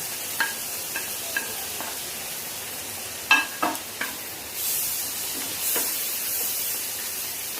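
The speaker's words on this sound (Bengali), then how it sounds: "এরপরে আমি একটু পেঁয়াজ লঙ্কা কুচি দিয়ে দেব।" Chopped onion and green chili frying with whole cinnamon, cardamom and clove, a few soft sizzle bursts and stirring scrapes, then a steady low hiss from the pan, close and moderately quiet with no talk.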